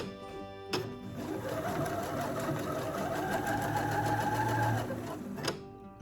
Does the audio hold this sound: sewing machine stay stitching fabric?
yes